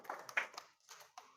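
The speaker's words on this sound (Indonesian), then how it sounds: "Tepuk tangan semua" A small class of schoolchildren claps hands during an Indonesian primary-school lesson, a few scattered, uneven claps over barely a second and a half, fairly quiet and close by.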